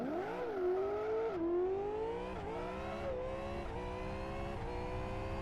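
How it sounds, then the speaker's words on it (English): A V8 race car in the Live For Speed racing game revs hard and climbs through the gears, its engine pitch rising and dropping at each quick shift across several changes, close and steady, with tires squealing faintly. "So V8 engine sounds good."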